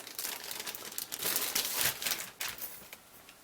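Plastic packaging around the chrome parts trees of a 1955 Chevy Nomad AMT Ertl 1:25 scale model car kit being cut and pulled open, giving close crinkling and tearing rustles that swell in the middle and then trail off in short bursts.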